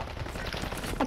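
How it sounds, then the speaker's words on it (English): Gunfire in the Rebirth Island video game, a quick burst of shots crackling close and fairly loud for about a second, with no voices over it. "I can't see him, just shooting."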